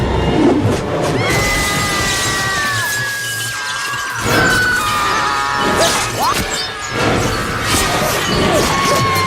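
Glass smashing and shattering in a horror film scene from Cult of Chucky, a repeated crash with swishing debris and clinks under a dense, loud score, with no talk.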